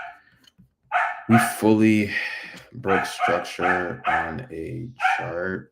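A person talks steadily while a dog barks intermittently in the background, the barks partly masked by the voice.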